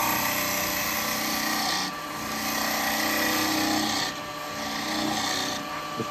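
An SCH chisel cutter working wet wood at a 45-degree angle gives a steady rasping grind that clogs as it goes, swelling and dipping in two or three pulses, close and sustained.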